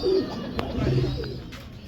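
Pigeons in a loft make soft, low cooing calls, close by and fairly faint, with a few light knocks in the background.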